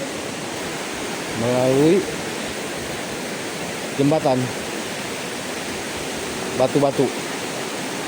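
Steady broadband rush of a river flowing over rocks near Curug Nangka waterfall on a mountain trail near Bogor, constant throughout, with short bursts of speech breaking over it three times.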